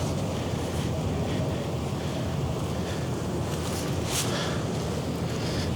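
Steady, strong winter wind at about -7 degrees roars and buffets continuously on a snowy city sidewalk with no pauses, a rough rumbling hiss filling the whole stretch.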